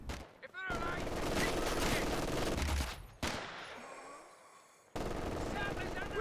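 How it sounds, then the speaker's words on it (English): Machine gun fire in Company of Heroes 2 rattles in sustained loud bursts, broken by abrupt cuts and restarts, with a blast and rumble mixed into the battle noise. "Machine gun gonna stay active."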